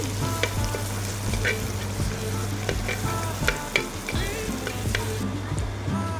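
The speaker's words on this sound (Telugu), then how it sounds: "వేసి కొంచెం కలుపుకుంటున్నా మంచిగా ఉల్లిగడ్డ కొంచెం నూనెలో వేగాలి" Onions crackle and sizzle steadily as they fry in oil in a pan for egg biryani, with occasional scraping and stirring clinks and a low hum underneath.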